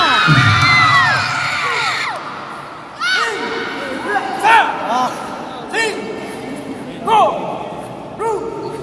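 A crowd at a kempo event in Gorontalo cheers and whoops in applause for Pasang Jahe. Loud shouts and yells come in repeated bursts, the first the loudest, with the later ones fading.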